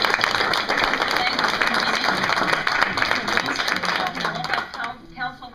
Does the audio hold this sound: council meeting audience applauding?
yes